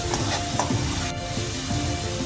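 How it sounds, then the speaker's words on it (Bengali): Steady sizzling of onion frying in a pan over low to medium heat, with occasional scraping from stirring; continuous and fairly loud, no talking. "পেঁয়াজটা ততক্ষণ অবধি আমি ভালো করে ভেজে নেব যতক্ষণ না পেঁয়াজের থেকে কাঁচা গন্ধটা চলে যাচ্ছে"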